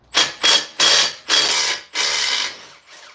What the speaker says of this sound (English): So I got to take off the torque converter bolts,